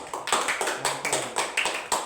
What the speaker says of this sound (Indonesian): Tepuk tangan kelompok satu